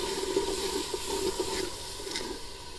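Turmeric is stirred into chicken masala frying in a handi, with a steady low sizzle and faint scraping stir, plus a thin continuous hum under it, close and with no talk.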